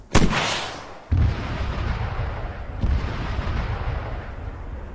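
A rocket launcher fires in the video game Arma 3 with a sharp loud blast, then a second heavy boom follows about a second later and a rumbling roar continues afterward.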